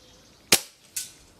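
Two sharp, close shots from an Air Arms TX200 air rifle fitted with a 22 mm piston, fired at a zeroing target 62 yards away, each a crisp crack with a short decay, about half a second apart.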